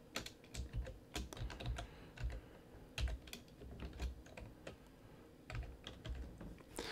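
Rapid typing on a computer keyboard while entering flute fingering in notation software, with irregular clusters of sharp, close key clicks and short pauses between bursts.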